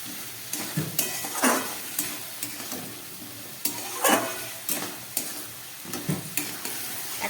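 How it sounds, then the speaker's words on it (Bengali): Spices for egg curry fried and stirred in a pan, with repeated scraping strokes of a spoon roughly every second over a steady low sizzle, close and moderately loud, no talking. "সমস্ত মশলা দিয়ে এবার আমি কষাচ্ছি।"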